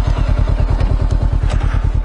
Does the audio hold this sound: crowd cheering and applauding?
no